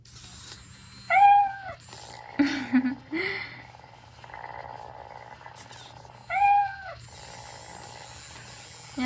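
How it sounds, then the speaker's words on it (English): Chongker MateCat Pro interactive robot cat giving two distinct close meows several seconds apart, with soft purring and murmuring sounds between them in a quiet room. "And you can hear purrs and meows."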